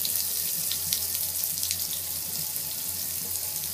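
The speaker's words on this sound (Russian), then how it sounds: "хоть горячую, хоть холодную воду включай" A faucet with an LED light attachment running water into a sink, a steady, fairly loud hiss and splash that continues unbroken, with no voices.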